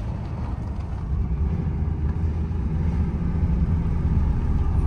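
A low, steady rumble of vehicle engines continues throughout, like cars driving along a road, with no voices.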